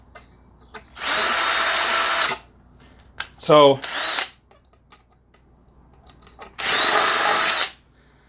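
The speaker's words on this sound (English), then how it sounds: "So I now have a 3/16 drill bit in here." A power drill fitted with a 3/16 bit bores a rivet hole in a Patriot Forester chipper/shredder, two loud steady whirring bursts with a short revving whine between, and a brief spoken word at the start.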